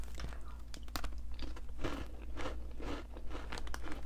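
Close, crisp crunching and chewing of a Turkish sesame snack, with repeated sharp bites and crackles in an uneven rhythm, and little else around it.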